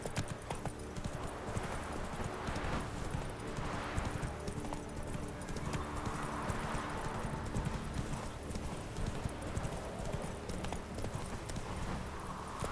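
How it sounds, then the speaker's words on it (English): Horse hooves clip-clop at a steady trot in the video game The Witcher 3: Wild Hunt, a continuous rhythmic clatter of rapid hoofbeats close by, with faint game ambience beneath. "Giddy up."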